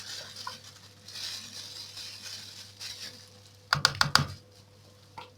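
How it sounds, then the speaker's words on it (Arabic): A plastic bag holding cored zucchini insides is opened in a home kitchen while stuffed vegetables are made, a brief burst of crisp crinkling clicks rising out of a low, steady background hum. "هاخد الكيس اللي هو بتاع القلب بتاع الكوسة، افتحه كده اهو"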